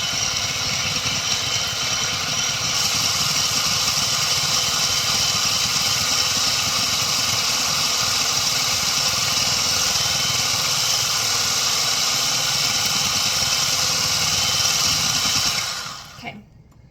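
A blender on turbo mode whirs steadily while mixing a golden milk iced latte, a loud constant drone that holds evenly and then cuts off abruptly near the end.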